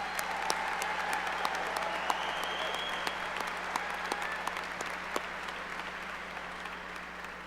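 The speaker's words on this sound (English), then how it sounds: "Let's give them a huge round of applause and show our students how proud we are of them." Steady applause from an audience for the graduating class of 2025 at a pinning ceremony, dense and sustained clapping heard from a moderate distance in a large room, slowly fading toward the end.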